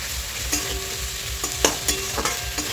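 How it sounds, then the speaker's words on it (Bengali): Thinly sliced potatoes fry with spices in a pan, a close, steady sizzle broken by sharp spatula scrapes and clicks at irregular moments. "আলুগুলো ভাজা ভাজা হচ্ছে, তার সাথে সাথে এই মশলাটাকে ভালোভাবে ভাজা ভাজা হয়ে যাবে"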